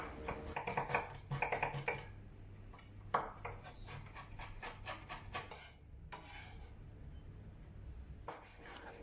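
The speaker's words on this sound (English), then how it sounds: "And also finely chop some ginger." A knife finely chopping ginger on a cutting board, rapid rhythmic taps in quick bursts with short pauses between them, close and crisp.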